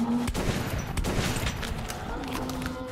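Gunshots in Metro 2033 Redux, a string of loud impacts and shots at irregular intervals over dense in-game noise, with a tonal hum running beneath.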